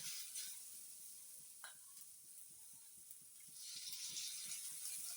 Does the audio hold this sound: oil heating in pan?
yes